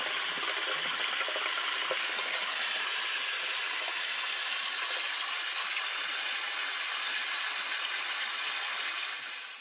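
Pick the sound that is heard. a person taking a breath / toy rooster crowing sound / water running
water running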